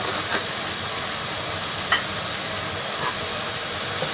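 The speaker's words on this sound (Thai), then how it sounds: "ผัดทุกเคล้าให้เข้ากัน" Sweet preserved radish and egg stir-frying in a wok, a steady close sizzle with scattered scrapes and clinks of a spatula tossing the mixture, no voices.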